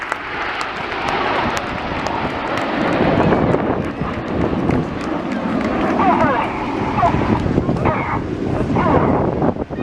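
Red Arrows jets at the Wales National Airshow 2016 roar past as a broad, rushing drone, heard under a commentator's voice and heavy wind buffeting the microphone.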